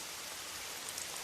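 Steady rain pours down in a relentless downpour, a dense, even hiss of drops striking surfaces, moderately loud and unbroken, with no voices.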